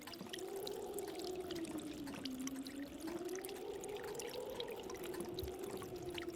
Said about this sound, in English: And then let's add some water.